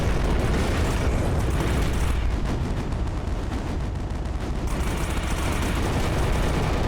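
Dense, loud barrage of bullets and gunfire in the shooter Starlight: Eye of the Storm, a continuous roaring wall of rapid shots and blasts with no pauses.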